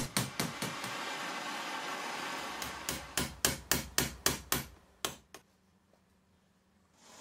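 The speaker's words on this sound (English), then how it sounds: "I apply some heat with a gas torch and use a hammer for some gentle persuasion." A hammer strikes a torch-heated metal band in a quick series of sharp, ringing blows that speed up and then stop, followed by quiet.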